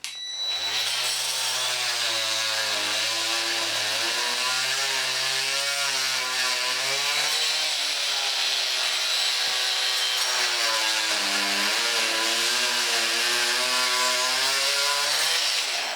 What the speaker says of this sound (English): Once the glue's dry, we can then cut them off flush. I'm going to use this multi-tool.